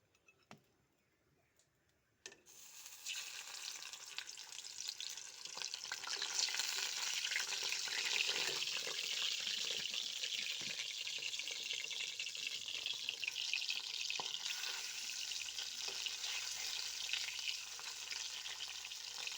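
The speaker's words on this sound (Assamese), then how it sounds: "প্ৰথমতে মই মাছখিনি এনেদৰে ফ্ৰাই কৰি ল'ম। এয়া তেলখিনি গৰম হৈ আহিছে, মই ইয়াতে মাছ কেইপিচ দি দিম।" After a quiet start, fish pieces drop into hot oil and set off a loud, dense frying sizzle with crackles and pops that holds steady for the rest of the stretch.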